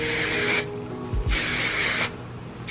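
An aerosol can of hairspray hisses onto hair before heatless curling, in two long, close bursts with a short pause between them.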